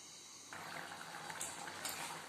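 Chicken curry simmering in a covered pot on the stove, a soft steady bubbling hiss that grows denser after a quiet start, with faint lid rattles, close and low in level.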